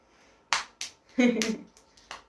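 A few sharp hand claps come in short bursts, close and fairly loud, spaced unevenly with a brief voiced sound between them in a quiet room.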